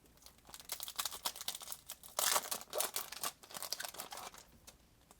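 Foil wrapper of a 2012 Topps WWE trading card pack crinkles and tears open up close, a busy stream of crackling rustles with a sharper rip midway.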